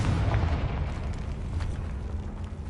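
A dense, rumbling blast from the Confringo fire spell in the game Hogwarts Legacy, a continuous loud roar heavy in low end that fills the whole moment without pause.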